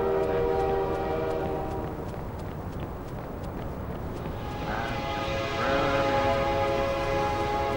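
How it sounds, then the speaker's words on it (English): Trains passing in the video game Watch Dogs, a steady rumble of rolling cars with a sustained horn tone swelling in the second half, loud and continuous with no voices. "I really badly hear trains."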